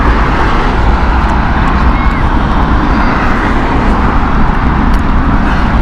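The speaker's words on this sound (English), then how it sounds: "And here is the Airbus A350." An Airbus A350 at Heathrow Airport on an evening makes a loud, steady jet roar that fills the whole stretch without letting up.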